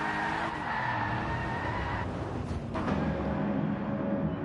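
Race car understeering off track at Brands Hatch in GT Sport, tyres skidding and scrubbing under a steady engine roar, loud and continuous with a brief dip midway.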